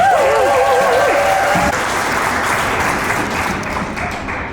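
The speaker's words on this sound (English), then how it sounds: "Let's give him a round of applause" Wedding guests applaud the best man, a loud, dense burst of clapping from a crowd that gradually tapers, with a voice briefly rising over the start.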